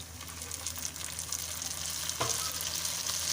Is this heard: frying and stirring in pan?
yes